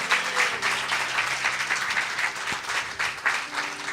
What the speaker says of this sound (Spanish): Un aplauso a Dios que revela.